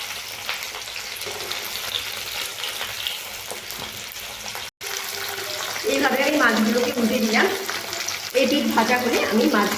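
Small tangra fish with roe fry in a pan, a continuous sizzle crackling close by, with a voice speaking over it in the second half as the sound grows louder.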